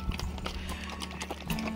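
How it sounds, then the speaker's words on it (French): Horses clip-clop across a riding arena in Andalusia in the morning, with steady hoof strikes throughout and a brief whinny-like tone near the end over a low background hum. "C'est le manège des chevaux le matin."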